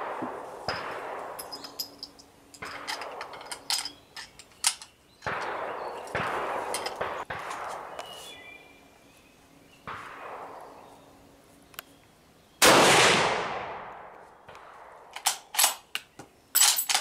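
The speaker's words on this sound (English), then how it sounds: "And we're going to see how it shoots." Several shots from a budget rifle fitted with a modified trigger, each a sharp crack with a decaying echo spaced a couple of seconds apart outdoors, and one louder, longer blast near the end.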